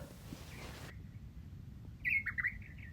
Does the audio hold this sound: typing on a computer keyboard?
no